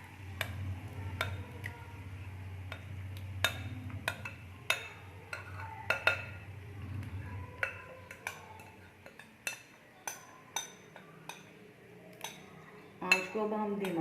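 Leftover masala gravy for chicken karahi being stirred and fried in oil, with repeated sharp clinks of a metal utensil against the pan over a low sizzling bed, clearer taps toward the end.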